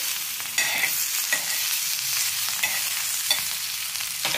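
Cumin seeds and green chilies sizzling in hot oil in a pan, a steady broadband frying hiss with occasional sharper crackles and stirring clinks, close and continuous throughout.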